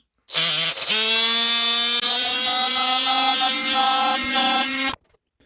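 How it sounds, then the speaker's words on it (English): A power sander whines loudly and steadily for about four and a half seconds, a harsh buzzing drone that starts abruptly and cuts off cleanly. "So now we're gonna sand it and see how it went."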